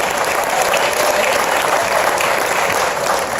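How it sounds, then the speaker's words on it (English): A big round of loud, dense applause fills a conference hall at the Inman Connect 2017 real estate event, sustained and even from start to finish. "Big round of applause for that dedication and commitment"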